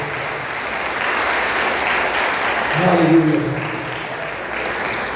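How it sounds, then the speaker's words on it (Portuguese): Church congregation clapping together in praise during a worship service, a steady wash of applause mixed with shouted praise and a voice calling out over it. "Pode aplaudir o Senhor."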